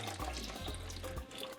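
Cold water running from a kitchen tap onto plantains, a steady close splashing stream that fills the whole moment with no talk over it.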